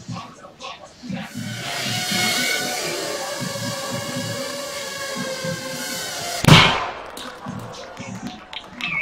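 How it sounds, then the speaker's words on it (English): A small drone-borne explosive charge of about 3 grams goes off as one sharp, loud bang partway through, amid a steady whirring hum and muffled voices. "That little bang is enough to penetrate the skull and destroy the contents."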